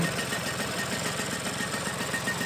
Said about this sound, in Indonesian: kita itu mencari bunyi Vespa yang naik